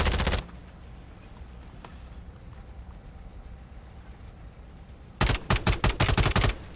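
Automatic gunfire in the Call of Duty Resurgence video game: a loud burst at the start, a long quiet stretch with low background rumble, then a rapid volley of sharp shots near the end.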